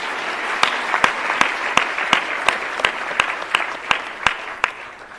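A crowd at a launch event for 4IR centres of excellence applauds the Director General, sustained dense clapping with a few sharper individual claps standing out at regular intervals.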